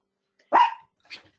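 A dog gives one sharp, close bark followed by a softer, shorter second yelp, then quiet.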